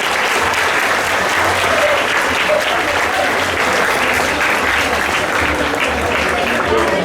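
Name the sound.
children applauding at school assembly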